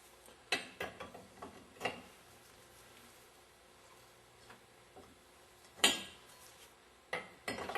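A 1¼ wrench works on Meyer E-60 valve parts, producing scattered sharp metallic clinks and taps, a few louder knocks spaced irregularly between quiet stretches, close by with no talking.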